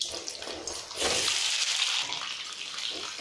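Potatoes dropped into hot oil already holding cumin and green chilli, cooking an Indian aloo fry: a loud, hissing sizzle that swells suddenly after a second and then holds steady, close up, with no talk.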